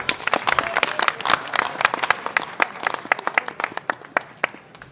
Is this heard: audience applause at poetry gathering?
yes